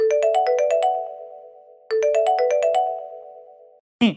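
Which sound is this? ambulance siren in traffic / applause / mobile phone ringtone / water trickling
mobile phone ringtone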